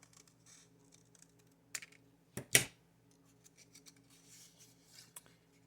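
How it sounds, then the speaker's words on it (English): Scissors cut a paper heart shape by hand, giving a few sparse, faint snips and crisp clicks close by against a quiet room, with no talking. "I'm going to use my scissors and cut it out"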